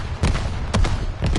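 Fire and explosion effects from a gun combo with SMO and Blair in the video game The First Descendant. Three booming bursts land at roughly half-second intervals over a rumbling background.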